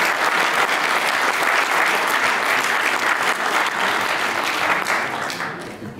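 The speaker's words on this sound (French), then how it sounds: "Je vous demande de vous applaudir" An assembly audience applauds itself at the close of a general meeting, loud sustained clapping from a large crowd that fills the room and eases off slightly at the end.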